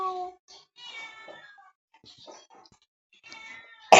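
A cat meows several times in short, drawn-out cries with pauses between them, fairly close, ending with a sudden loud burst.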